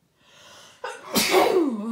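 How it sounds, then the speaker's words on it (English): A single close, loud human sneeze with a sharp explosive burst, preceded by a short inhaled buildup and followed by a trailing breathy tail. "Oh, I gotta sneeze."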